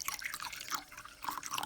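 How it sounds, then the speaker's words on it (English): Goji berries being washed in clean water, with small drips and splashes of water sounding close and light in short clusters, no talking. "Add clean water to wash them."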